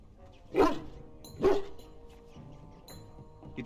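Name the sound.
dog barking in the video game Dragon Age Origins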